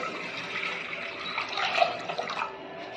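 Water pours steadily into a cooking pot, 1.5 litres going in to boil lasoda (gunda) fruit for a sabzi, a continuous splashing rush lasting the whole moment with no talk.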